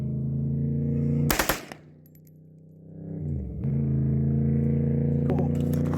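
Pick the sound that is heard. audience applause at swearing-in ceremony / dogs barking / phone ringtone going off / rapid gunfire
rapid gunfire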